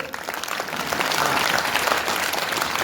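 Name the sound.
audience applause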